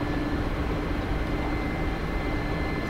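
Steady, unbroken engine drone of a helicopter cruising level at 200 km/h in a flight simulator game, a dense even roar held at constant loudness with no talk.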